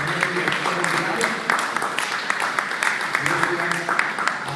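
A church congregation claps steadily throughout, moderately loud and fairly close, with scattered sharper claps standing out from the dense patter.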